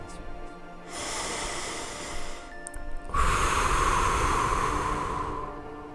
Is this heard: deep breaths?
yes